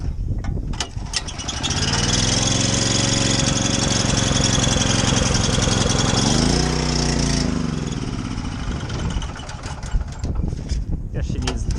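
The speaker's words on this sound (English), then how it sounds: "Sure would be sad if this welder didn't fire up right now." An engine-driven welder on a service truck starts up and runs steadily outdoors, a loud, close, continuous mid-pitched engine drone that dips briefly as the choke is worked and then settles back.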